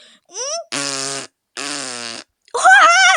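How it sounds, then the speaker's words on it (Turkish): Cartoonish fart sounds in the video game Minecraft, with two long, buzzy, steady blasts and then a louder, wobbling one, mixed with short voiced noises, all loud and close. "Hadi bir daha osur yavrum."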